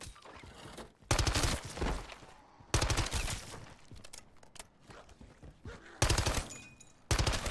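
SMG gunfire in a video game comes in four loud full-auto bursts, each lasting about a second, with quieter gaps of game noise and movement between them.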